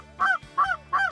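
A flock of Canada geese passes during a hunt, giving three loud, evenly spaced honks in just over a second.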